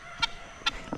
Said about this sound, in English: I see a bunch of wet ass chickens running around.